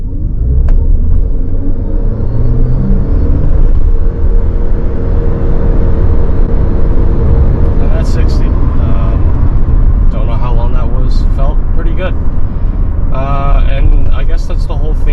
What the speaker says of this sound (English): let me just do a quick acceleration run